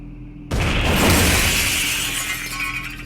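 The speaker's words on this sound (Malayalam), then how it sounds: "അപ്പോ വീണു ബോംബ് വീണു." A bomb strikes and breaks apart a ship in a video game, bursting in suddenly after a quiet moment into a loud, close, crashing shatter that slowly thins out over a few seconds, with no talking.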